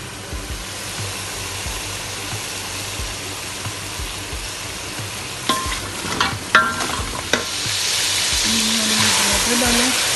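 Steady sizzling from masala with garlic and tomato frying in a pot for mutton yakhni pulao, with a few scraping clinks of a spoon stirring partway through.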